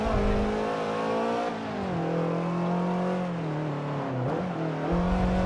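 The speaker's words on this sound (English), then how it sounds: "Trying to take the RX-8. Listen to that rotary engine do work." Mazda RX-8 rotary engine racing through sharp corners in Forza Motorsport 7, a loud, sustained buzzing whine that climbs and drops in pitch with shifts and lifts, close and alone without talk.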